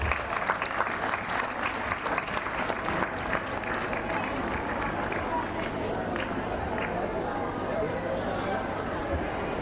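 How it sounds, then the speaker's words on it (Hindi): A large audience at a school annual day celebration claps steadily and loudly, with a constant background hum and some crowd noise under the applause. "एक बार तालियां हो जाए।"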